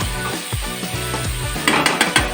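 Chole sizzling and frying in a pan, a steady close hiss with a few scraping stirs and brighter bursts of crackle near the end, with no voices.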